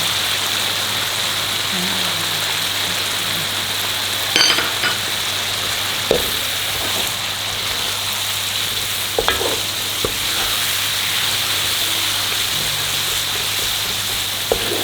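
Turmeric leaves, lemongrass and bay leaves sauté in hot oil for a Padang-style kikil gulai, giving a steady, close sizzle with occasional light clinks of a utensil stirring the pan.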